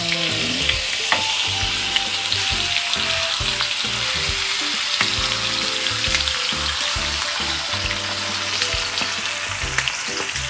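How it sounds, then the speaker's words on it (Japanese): Chicken pieces sizzle loudly in olive oil with garlic, a dense steady frying crackle with stirring clatter throughout and no talk. "お肉を入れていきますね。"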